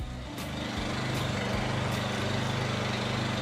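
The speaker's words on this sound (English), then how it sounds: "And then we're gonna take this pressure washer and open it up and get the air out." A gas pressure washer engine running steadily nearby, a loud, constant small-engine drone with a few faint clicks over it.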